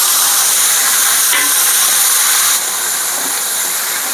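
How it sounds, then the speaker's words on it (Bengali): Battered fish pakoras frying in hot oil, a loud, continuous, close-up hissing sizzle that holds steady and eases slightly partway through, with no talking. "এবার আমি এর মধ্যে তেলের মধ্যে আমি একে একে এগুলো সব দিয়ে দিচ্ছি।"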